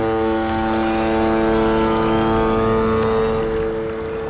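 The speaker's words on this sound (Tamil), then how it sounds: "இது அந்த ஹாரன் சத்தம் தான், அந்த பசங்களுக்கு கேட்டதுன்னு சொன்னாங்களே" A deep, steady horn drones continuously for several seconds, loud and sustained, with a low rumbling hum beneath it.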